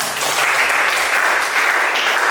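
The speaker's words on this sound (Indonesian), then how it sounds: "Berikan tepuk tangan." A classroom of students claps together in loud, dense applause that runs steadily for a couple of seconds with no talking.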